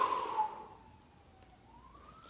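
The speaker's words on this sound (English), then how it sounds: "sirens" A lone emergency siren wails, its tone gliding downward and then rising again. It is fairly faint and distant, with no voices over it.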